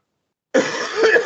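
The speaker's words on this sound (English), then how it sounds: "Sorry for the coughing." Silence, then a single harsh cough erupts and breaks into a rough, raspy fit of coughing, close and fairly loud.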